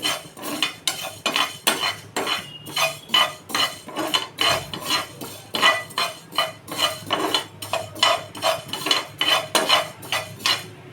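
Ingredients being dry-roasted in a pan for homemade hair oil, with rapid rhythmic metallic scraping and clinking of a spoon against the pan, close and steady without talking.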